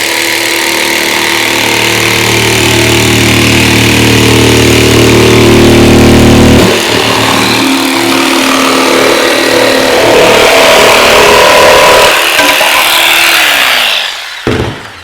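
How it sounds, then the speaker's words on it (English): A jigsaw tilted and slowly lowered to plunge cut into MDF buzzes loudly and steadily, its tone shifting as the blade bites in, then winds down before stopping near the end. "if you take the jigsaw and you tilt it like this, turn it on, and slowly bring it down, you're actually going to cut right into the piece"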